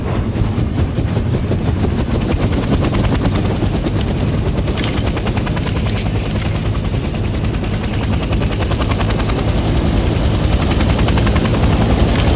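A helicopter engine in Hell Let Loose Vietnam runs loud and close, a dense, continuous rotor roar and turbine whine holding steady for the whole stretch with no voices.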